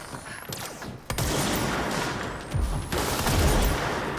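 Repeated bursts of gunfire in the video game Control, loud and close, with broadband blasts rising into a sustained volley over the final seconds.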